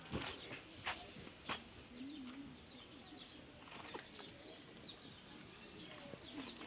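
Pigeons coo softly nearby in a domestic yard while a few sharp knocks and faint background noise sound around them.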